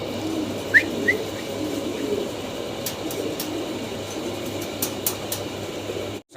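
A few short calls and chirps from fancy pigeons rise over a steady low hum, with sharp clicks scattered through the background.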